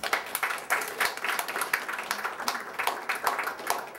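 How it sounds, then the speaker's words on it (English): Applause from a church audience welcoming a reverend before a morning sermon, a moderate patter of many hands clapping steadily, fairly distant and mid-level, with no talking over it. "So please give him a warm round of applause."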